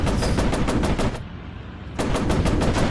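Tank machine gun fire in a video game, sustained loud rapid bursts that cut out for about a second and then resume, with no talk over them.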